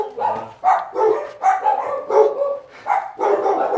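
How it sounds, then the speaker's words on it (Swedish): Many dogs in a Brazilian favela bark and yip in repeated overlapping bursts, about six loud barks over a few seconds, fairly close, with no talking. "här är en massa hundar som skäller"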